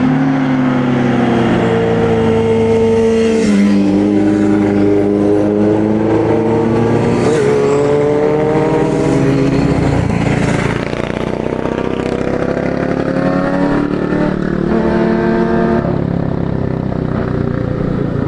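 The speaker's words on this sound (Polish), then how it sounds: "Popularna trasa dla motocyklistów, bo to część Yamanami Highway, którą całą przejechaliśmy kiedyś z Andrzeje" Motorcycles on the Yamanami Highway, a popular mountain riding route in Japan, with loud engines revving and shifting pitch as they pass for about eighteen seconds, steady and close, with no talking.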